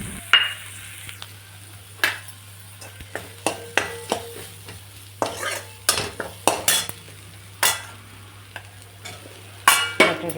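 Potatoes tossed into a pan with red-black masala, turmeric and ground coconut, then stirred while frying; a spoon scrapes and clinks against the pan in irregular strokes over a steady low sizzle.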